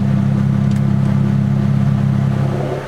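An Infiniti G37 engine held at steady mid revs with a loud, raspy exhaust drone through an open Granatelli electric exhaust cutout, close by and continuous.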